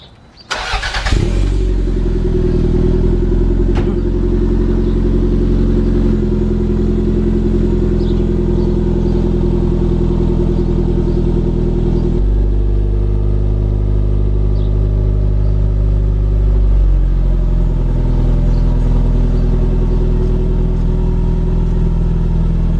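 A 1990s Toyota Celica GT4 or MR2 starts up and settles into a loud, close, steady idle with a deep droning rumble that shifts slightly in pitch over about twenty seconds, no talking.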